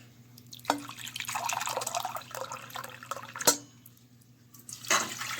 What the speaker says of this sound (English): first, add 2 cups of water